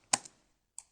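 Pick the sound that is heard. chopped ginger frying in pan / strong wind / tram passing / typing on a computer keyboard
typing on a computer keyboard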